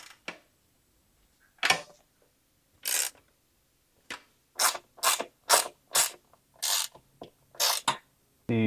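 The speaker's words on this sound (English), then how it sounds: "I'm taking a 10mm socket and I'm going to finish tightening them." A 10mm socket ratchet tightens nuts during assembly of a 3000W Hikeep K6S electric dirt bike, giving close, loud bursts of rapid clicking, about ten short runs with pauses between them and no talking.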